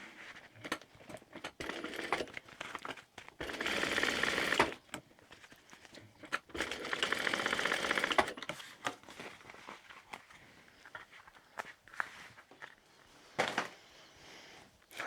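Sewing machine stitching a tote bag, two sustained whirring runs of needle stitching several seconds each, separated by clicks, handling and fabric rustle, close and fairly quiet.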